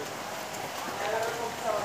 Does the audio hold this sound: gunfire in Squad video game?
no